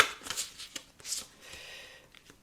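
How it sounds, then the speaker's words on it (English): Deck of tarot cards being shuffled by hand, a string of crisp papery riffles and slaps in irregular bursts, close and clear with no talking over it. "Let me just give this a shuffle."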